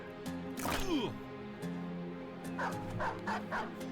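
In the video game Battle Brothers, a dog gives a sharp yelp and whining cry, then a run of rhythmic barks over faint game background sounds.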